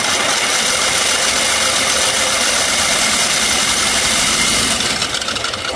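A motor driving a 3D printed planetary gearbox at full power gives a steady, loud mechanical whir with a rattling edge, running continuously throughout and easing slightly at the very end.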